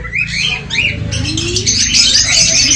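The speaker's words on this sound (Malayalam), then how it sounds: "African love birds" African lovebirds in an aviary at a farm villa in Chavakkad, Kerala, give shrill overlapping chirps and squawks, loud and close, over steady background noise.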